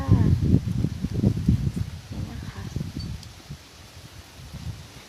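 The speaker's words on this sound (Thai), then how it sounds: "ลมแรงมากเลยจ้า" Strong wind gusting through a vegetable garden, a rough, blustery rush with rustling foliage, loudest at the start and easing off, while someone speaks briefly over it.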